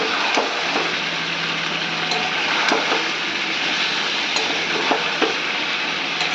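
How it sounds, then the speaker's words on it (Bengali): Meat being sautéed in a pan ahead of pressure cooking, a steady close sizzle with scattered scraping stirs throughout and a faint low hum underneath, no voices. "আর একটু কষিয়ে তারপরে আমি কুকারে দেব।"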